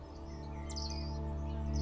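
Pigeons in the Stray video game give soft chirping calls over a steady low droning hum, close by and continuous for a couple of seconds.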